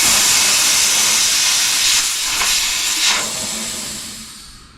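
Air hisses loudly and steadily from the valve of a new front tire on a 1999 Honda XR250 dirt bike, close up, slowly tapering off as the pressure drops.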